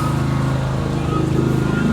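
Lawn mower running outside, a continuous loud engine drone with a steady rapid pulsing throb, filling the space without pause.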